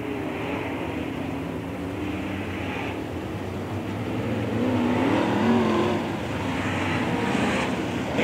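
Modified race cars at Springfield Raceway rolling off for a heat race, engines droning and revving in a steady mid-distance rumble that swells briefly and then settles.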